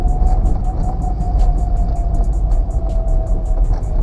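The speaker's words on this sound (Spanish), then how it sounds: "Nuevamente, tan, neutro, acelero y presioncita tercera." Manual-transmission car engine revving in neutral during clutchless gear shifts, a steady loud motor drone with a persistent whine and no talk over it.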